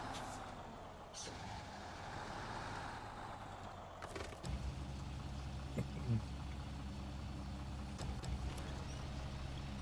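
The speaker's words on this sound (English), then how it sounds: "This truck has a chirp bird noise." A truck in the video game SnowRunner runs with a low engine drone, joined by brief high squeaks and chirping noises that sound like a bird, with a sharp hiss-like burst partway through, fairly faint overall.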